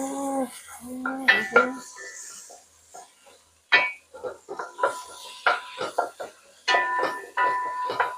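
Tomato stirred into a pot of spicy Sri Lankan Jaffna-style beef curry with potato, a spoon scraping and clinking against the pot in repeated bursts, with a voice heard at times.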